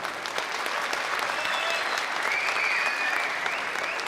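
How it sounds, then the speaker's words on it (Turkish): A studio audience on a television singing contest applauds a composer with sustained, even clapping at moderate level, a faint tonal line of music or feedback drifting beneath the hands. "bir büyük alkış lütfen"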